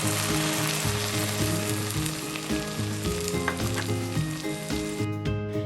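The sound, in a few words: onions sautéing in a pan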